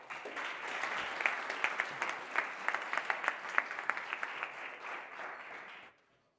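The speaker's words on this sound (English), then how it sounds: "Big applause." Audience applause after a startup pitch at an accelerator demo day, brisk, dense clapping with distinct sharp claps standing out, lasting about six seconds before stopping abruptly.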